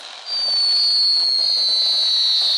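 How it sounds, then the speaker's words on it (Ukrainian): A high, thin whistle rises and drifts slightly downward in pitch over a soft hiss, like fireworks whistling in a video game. "А, як ці бомби свистять"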